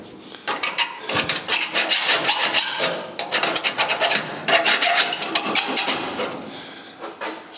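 Metal being cut away along a scribe line on the trunk of a 1956 Chrysler Windsor, a close, steady rasping and grinding with rapid rhythmic strokes that continues nearly unbroken.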